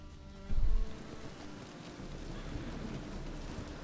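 A storm in the Witcher 3 video game: a low rumble of thunder rolls in early, followed by a quiet, steady wash of rain and wind.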